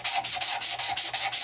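Steady back-and-forth sanding with 220-grit sandpaper on a knife handle, about seven rhythmic rasping strokes, close and fairly loud with no voices.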